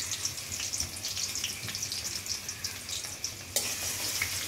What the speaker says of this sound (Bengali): পেঁয়াজ কুচি ভেজে নিই।